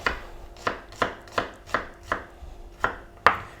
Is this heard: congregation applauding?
no